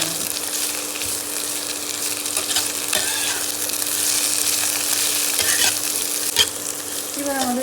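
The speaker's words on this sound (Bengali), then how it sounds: "দিয়ে ভালো করে হালকা আঁচে আমরা এগুলো ভেজে নেব" Green beans and other vegetables frying on low heat in a pan, a constant close sizzle with stirring scrapes and occasional clinks, steady and fairly loud, no voices.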